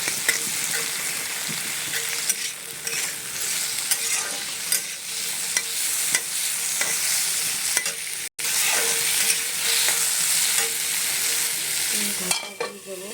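Malabar spinach (pui shak) fries in hot oil with a touch of turmeric and salt, giving a loud, steady broadband sizzle across the whole stretch, marked by occasional stirring scrapes and a brief break near the end.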